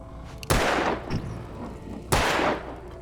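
Two sharp, loud gunshots ring out in the Alan Wake Remastered video game, about a second and a half apart, each ending in a decaying echo. The second shot lands near the end.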